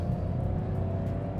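A Toyota Wigo 1.0G CVT small car's engine hums steadily as it accelerates, a continuous low drone with road noise heard from inside, no talking over it.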